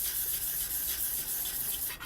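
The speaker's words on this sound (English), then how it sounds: "here's the results after 800 grit paper sanding" Steady rubbing of 800 grit sandpaper across the meteorite NWA 13855, a continuous close hiss that fades out abruptly at the end, with no voices.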